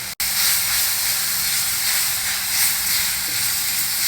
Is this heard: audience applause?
no